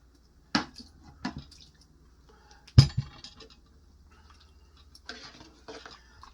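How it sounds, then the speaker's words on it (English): Cutlery clinking against a glass while stirring a Mexican shrimp cocktail with cilantro, onion and shrimp, a few sharp separate clinks and a soft scrape, close and with no talk. "We're gonna stir a little bit. So they can mix nicely."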